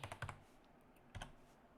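Fingers tapping on a computer keyboard while entering a value during game memory hacking, a quick cluster of keystrokes, a pause, then another close, soft click burst.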